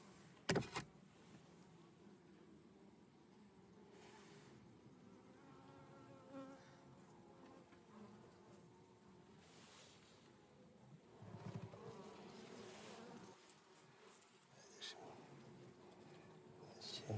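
Bees buzz around tree hives in the Carpathian countryside, a faint, continuous hum under the quiet outdoor ambience, with a couple of soft knocks.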